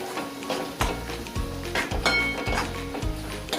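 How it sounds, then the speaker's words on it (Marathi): Spiced mixed vegetables for a Maharashtrian Bhogichi Bhaji are stirred and sautéed in a pan with ground coriander, turmeric, cumin powder and asafoetida, giving a close, steady sizzle broken by rhythmic scrapes and clinks of a spoon against the pan. "आता मी याला व्यवस्थित परतून घेणार आहे"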